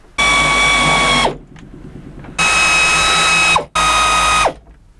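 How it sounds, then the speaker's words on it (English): A ratchet bolts in the rear stick of a convertible top on a 1971–73 Cougar or Mustang, giving three loud, close bursts of rapid clicking separated by short pauses. "we're going to go ahead and bolt the rear stick in now."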